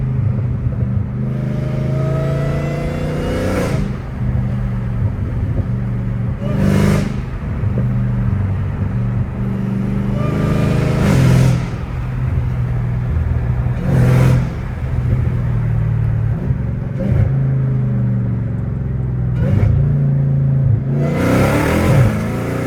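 Supercharged Dodge Challenger Hellcat Redeye with valved exhaust, a loud steady engine drone and rumble heard from inside the car while driving, with repeated surges of revving and a rising supercharger whine over several seconds each.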